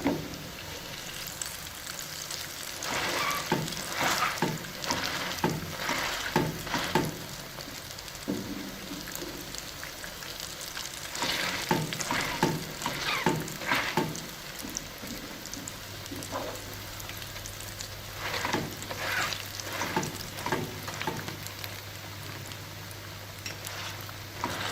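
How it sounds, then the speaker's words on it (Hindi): Onion fritters fry in hot oil in a village-style kitchen, crackling and sputtering steadily at close range in irregular bursts, with a low hum entering partway through and no talking. "इनको अच्छी तरह दबाएं ताकि अंदर तक फ्राई हो जाए।"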